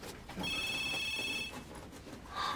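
A telephone bell rings indoors in one steady burst of about a second, fairly clear over a quiet room, then cuts off, with a faint second ring starting just after.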